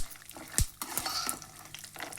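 Peanuts and roasted gram go into hot oil and are stirred, giving a brief sizzle with a few sharp scraping clinks of a spoon against the pan.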